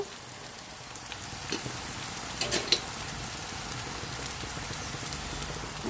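Softened onions sizzle steadily in a pan for an egg and dried ribbon fish curry, a dense hiss with a few sharper crackles and spits near the middle, with no talk over it.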